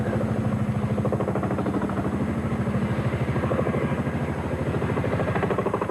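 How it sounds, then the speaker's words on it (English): A helicopter passing over the grass courts at Wimbledon during a 1989 tennis semi-final, its rotor thudding in a fast, steady pulse that stays loud and constant. "A helicopter."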